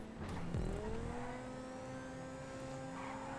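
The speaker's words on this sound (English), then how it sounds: "my car is screeching loud right now" A racing car engine in a GTA video game whines at high pitch while tires screech in long sliding squeals, continuous and fairly close with no talking.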